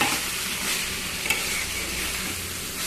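Water lily stems (shapla) frying in hot oil with cumin seeds, a steady close sizzle and crackle with occasional stirring scrapes, no voices.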